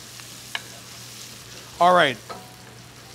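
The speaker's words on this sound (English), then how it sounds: "Now your shallots and your onions, stir them around a little bit." Shallots and onions sizzle in oil as they are stirred, a soft steady frying hiss under a brief spoken word and a short clink.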